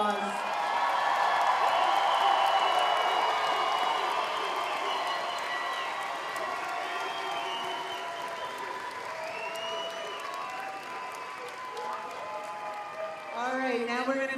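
Sustained audience applause for graduates at a 2025 commencement for a School of Health and Natural Sciences, a dense wash of clapping that peaks early and gradually thins, with crowd murmur and some voices mixed in.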